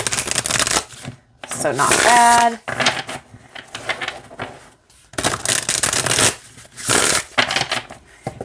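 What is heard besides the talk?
shuffling M.J. Cullinane Guardian of the Night card deck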